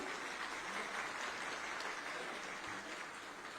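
An audience in Raipur claps to welcome Chief Minister Vishnu Deo Sai. The applause is dense and steady but sounds fairly distant and subdued throughout the short stretch.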